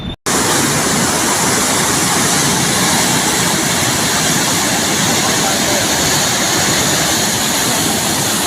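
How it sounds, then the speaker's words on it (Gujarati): The Orsang river in Chhota Udepur district, flooded by heavy upstream rain and running bank to bank, gives a loud, steady roar of rushing water. It continues without a break after a very brief start, and no voices are heard. "ઓરસંગ નદી બે કાંઠે વહેતી થઈ"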